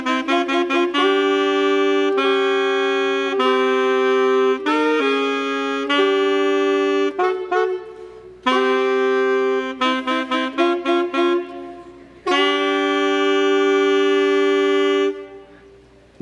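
Two reed players perform a passage from a theater score together, sustained harmonized tones moving in phrases with brief pauses, loud and close with no talking.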